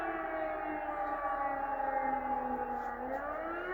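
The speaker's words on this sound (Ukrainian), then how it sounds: "чи то сирена." A distant wailing air-raid test siren in Poland holds a steady tone, then slowly bends downward near the end, sustained and fairly faint with no voices.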